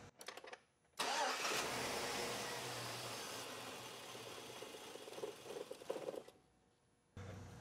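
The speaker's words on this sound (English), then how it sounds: "So I'm gonna go ahead and crank the motor now." A 2004 Chevy Tahoe's 5.3 flex-fuel V8 cranks with the fuel pump relay pulled, giving a sustained, even starter whirr for several seconds that stops, then resumes briefly at the end, nearby in a quiet setting.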